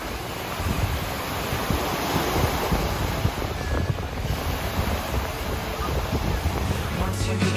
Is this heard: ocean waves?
yes